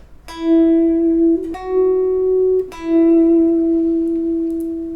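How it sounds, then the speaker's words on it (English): Clean electric guitar notes swell in softly and fade, three sustained tones in turn, smooth and bright with no distortion. "is just a simple guitar tone swelling in and out"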